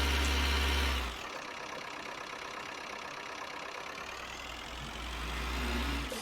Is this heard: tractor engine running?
yes